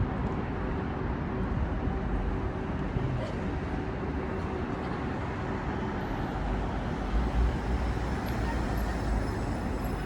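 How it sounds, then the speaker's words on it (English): A driverless car sits in steady street traffic, with a continuous low roadway rumble of nearby vehicles running throughout at moderate level, no one speaking. "That's the driverless car."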